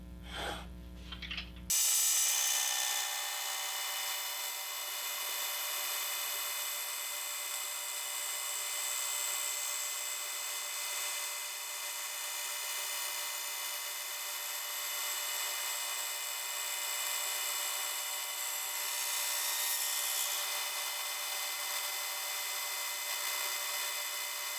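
A band saw resaws a cherry board into a veneer about ten thousandths of an inch thick, a steady high whining cut that runs on evenly for a long stretch after a brief start.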